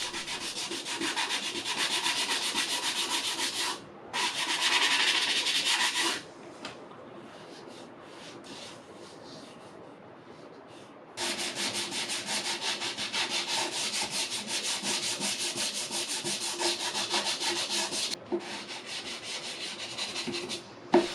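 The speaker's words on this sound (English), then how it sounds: "let's sand it down right quick" Steady, scratchy rubbing of sandpaper on wood filler on furniture in long stretches, with brief pauses between passes; no talking.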